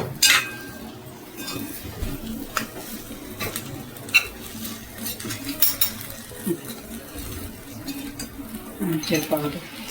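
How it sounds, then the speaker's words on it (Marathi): Arbi (taro root) is stirred and mixed in a pan with spices, giving scraping, clinking spoon-on-metal sounds and light sizzling, with intermittent talk. "आता ही अरबी चांगली मिक्स करून घ्यायची."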